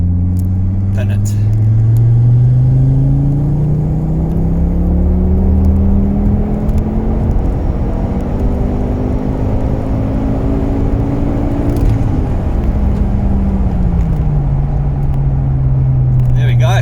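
An XR5 Turbo car accelerates hard through second into third gear, its loud, steady engine note climbing in pitch, dropping at each shift and climbing again over about seventeen seconds.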